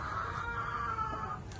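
Blue-legged and green-legged hens cluck softly in a brief, low, continuous murmur, fairly close but quiet, with no talking.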